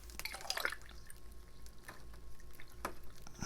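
Water trickling and dripping into a bog garden with a rock set in it, faint scattered splashes and gurgles fairly close, with no talk.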